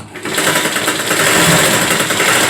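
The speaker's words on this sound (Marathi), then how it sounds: "तर मी इथे पुन्हा एकदा शिलाई मारेल." Sewing machine running steadily while stitching a blouse seam, a fast continuous mechanical whir with a rapid needle rhythm, close and fairly loud throughout.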